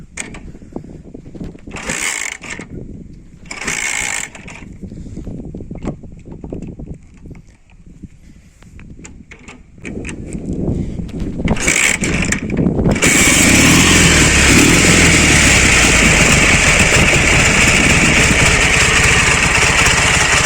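An old Dnepr K-750 motorcycle engine, slightly warmed, coughs through a couple of short start attempts, sputters, then catches and settles into a loud, steady rumbling run close by.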